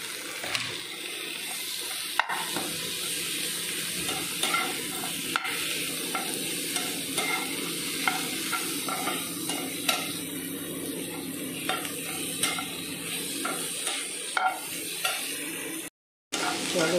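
Tomatoes cook in a pan for oats khichuri, giving a continuous close sizzle with repeated spatula scrapes and light clinks of stirring, and a brief drop to silence near the end.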